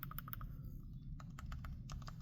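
Several sharp, close plastic clicks in small bursts with short pauses between, as the mouse-click bumpers on a GameSir Tarantula Pro controller are tapped.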